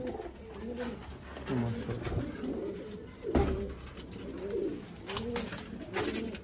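Teddy pigeons coo repeatedly at close range in a loft, a steady series of soft rolling calls with brief pauses, some overlapping from several birds.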